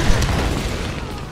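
Demonic shotgun blast in a video game, a loud, booming discharge with heavy low rumble that rings out and slowly fades.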